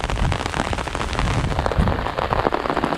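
Steady rain falls hard on a nearby surface during cold weather by a fishing spot, a dense continuous patter of drops with no voices.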